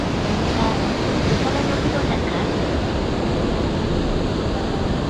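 Heavy surf roars continuously at close range on the Chiba coast in early April, a dense, steady wash of crashing water and spray with no pauses, loud throughout.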